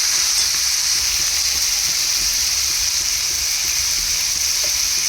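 Tomato and spice masala frying hard over high flame for a spicy sev bhaji, a steady loud sizzle with occasional stirring scrapes throughout.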